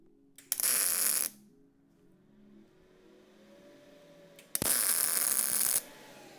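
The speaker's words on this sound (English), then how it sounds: "So I'm going to go ahead and tack those together." Steel plates for a 4th gen 4Runner front bumper are tack welded: two loud, close bursts of crackling, hissing arc noise, each lasting about a second, separated by a quiet pause with faint background hum.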